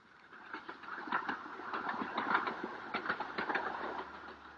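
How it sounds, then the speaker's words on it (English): A little 2-foot gauge steam train puffing and grunting its way up into the Himalayan foothills near Darjeeling in 1937, its rapid chuffs beating steadily and fairly loud against a continuous mechanical rumble, with no talk. "the little 2-foot gauge railway which puffs and grunts its way up towards the Himalayan foothills"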